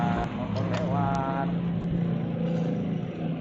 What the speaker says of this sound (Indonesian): Maaf ya, motor lewat.